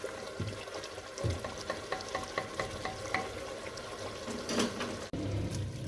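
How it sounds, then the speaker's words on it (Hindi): Oil sizzling and frying in a clay pot while meat is stirred, a steady crackling hiss broken by repeated scraping stir strokes and a brief clunk near the end, close and continuous with no talk. "अब मैं इसमें आधा कप तकरीबन ऑयल और डालूंगी और इसको भून लूँगी अच्छे से"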